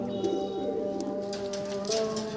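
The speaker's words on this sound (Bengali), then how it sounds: "পায়রা খুব দারুণ কোয়ালিটি পায়রা আছে" Madras pigeons cooing in a loft, soft steady throaty calls layered over a continuous hum, with a few faint chirps and rustles drifting through.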